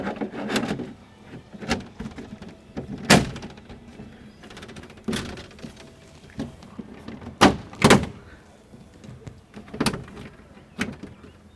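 Plastic clips of a Thule Force XT Sport roof cargo box on a Cadillac XT5 snapping into place, a series of sharp, close knocks and clunks scattered irregularly over a quiet background, with no talking.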